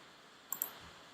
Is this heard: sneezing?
no